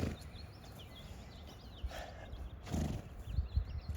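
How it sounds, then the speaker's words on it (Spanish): Dapple grey horse makes odd snorting and whinnying noises among other horses and cattle outdoors, faint bursts over soft hoof shuffling and background ambience, with no talk. "el que está haciendo los ruidos raros es el tordillo de acá del fondo"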